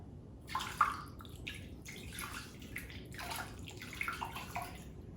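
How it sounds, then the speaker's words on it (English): One cup of water splashes and gurgles as it is poured steadily into a slow cooker, a continuous wet pouring sound with a few brighter splashes, close by and without talk. "we are going to add 1 cup of water"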